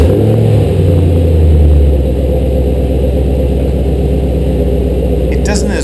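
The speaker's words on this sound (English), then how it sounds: "Something else that's significant is the exhaust note on this car." A 2013 Camaro ZL1 Convertible's engine rumbles with a deep, loud, steady exhaust note, surging briefly near the start and then settling into an idle burble, with no talking over it.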